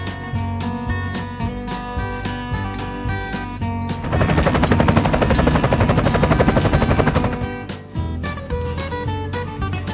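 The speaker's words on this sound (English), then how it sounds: "Police helicopter." Toy police helicopter sound effect: a loud, steady rotor-like chatter with a burst of rapid gunfire-like rattling in the middle, set among electronic toy tones and music.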